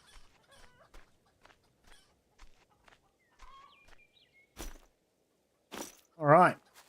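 Chickens in the farming video game Farmer's Life cluck and squawk in scattered short bursts, quiet at first and then louder near the end, mixed with sparse game sounds.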